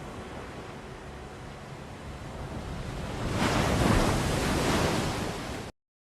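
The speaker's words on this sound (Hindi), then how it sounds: "तो ये जो इसमें पानी की आवाज़ थी बेसिकली वो पहले से ही आपके पास यहाँ इन होनी शुरू हो गई" Ocean waves roll and wash in a steady broadband rush, swelling louder midway as a surge breaks, then the sound cuts off abruptly; no voices are heard over the water.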